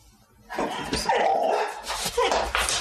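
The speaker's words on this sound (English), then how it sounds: "before the dog barked" A dog barks and yips in a short excited burst carried in a played-back recording, the sounds somewhat distant and roomy, after a quiet opening.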